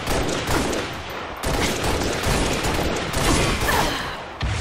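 Sustained gunfire in a video game firefight, a thick, continuous volley of shots with brief breaks, loud and close, with no talk over it.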